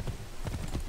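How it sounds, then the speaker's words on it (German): Horse hooves clip-clop in Assassin's Creed 3 as a horse is ridden through the streets of Boston, a steady run of soft, low thuds at moderate loudness with no talking. "Nur noch diese Pferde in Assassin's Creed 3"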